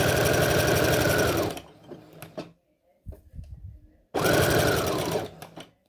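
A sewing machine stitches knit fabric in two loud, steady whirring bursts, the first lasting about a second and a half and the second starting after a pause. Soft handling noises and brief faint sounds fill the gap.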